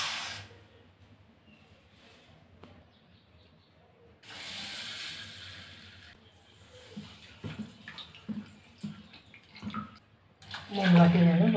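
Water is poured and swished in a container of moong dal lentils, with scattered splashes and clinks growing louder toward the end, after a quiet stretch.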